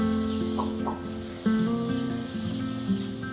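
Roosters on a male-chicken farm in Nanggerang village, Cicurug, Sukabumi, cluck and crow in overlapping calls, with several birds nearby making a busy, continuous coop chorus without talk.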